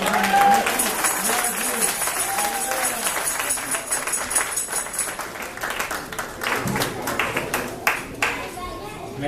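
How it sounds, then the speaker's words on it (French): A church congregation applauds for a woman named Jeannette in a steady wash of clapping that thins out toward the end, with voices and a few sharper claps mixed in. "Une bonne main d'applaudissement pour Jeannette."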